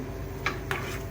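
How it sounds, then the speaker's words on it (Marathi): Vegetable biryani rice stirred in a pot gives two short, distinct metallic scrapes of a spoon against the vessel over a low steady background hum. "हे बघा हलवून घ्या"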